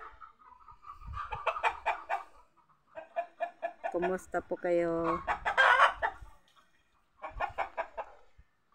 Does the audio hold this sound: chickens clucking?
yes